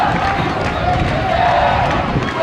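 A boisterous crowd at a youth football cup final between Valeo and FC Perafita, a dense continuous wash of many voices shouting and chattering nearby, loud and unbroken throughout.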